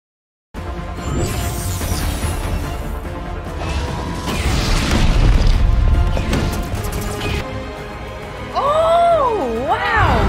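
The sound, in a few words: grenade explosions in X-Men '97 animated show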